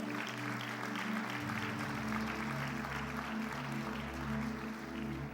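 A church congregation applauding, steady mid-level clapping from a crowd over sustained organ-like musical chords that start low and continue underneath the whole time.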